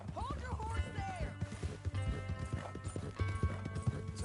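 Horse hooves clip-clop in a steady rhythmic trot in a video game, close and clear, mixed with tack rattles and a brief whinny, while people talk over the top.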